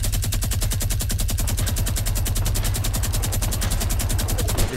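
Rapid automatic gunfire from a weapon in the video game Fortnite, a loud, steady burst of evenly spaced shots that runs unbroken through the whole stretch with no talking.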